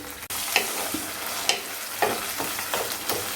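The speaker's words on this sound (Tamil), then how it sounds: "இதில் ஒரே ஒரு தக்காளி போட்டுக்கலாம். கொஞ்சம் வதங்கட்டும்." Tomato sautéing in a pan for a chicken kofta curry, giving a soft steady sizzle with a few sharp stirring clinks spread through the clip and no talk.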